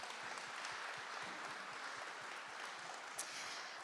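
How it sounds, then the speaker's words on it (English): An audience at a business hall of fame event applauds a pianist. Steady clapping from many hands sounds faint and distant throughout, with no talking over it. "so let's give him a big round of applause as well"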